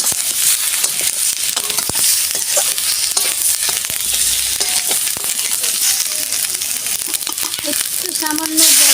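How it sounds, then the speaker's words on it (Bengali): Fish masala with Kashmiri chilli being stirred in a frying pan, a loud continuous sizzle with dense, rhythmic scraping and clinks of the spatula throughout. "এবার নেড়ে দেবো।"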